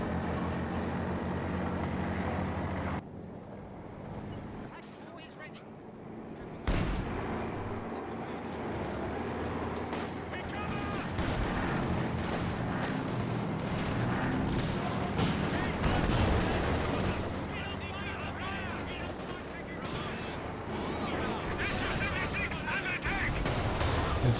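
Panzer IV tank fire in Company of Heroes 2 during a 2v2 match: repeated heavy booming shots and battle noise over continuous game audio, with a commentator talking throughout.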